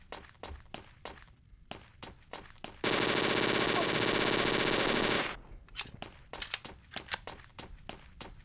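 Sustained automatic fire from an MP40 submachine gun in the video game Operation Ubersoldat, one loud unbroken burst lasting a couple of seconds, framed by a series of sharp single gunshots and thumps before and after.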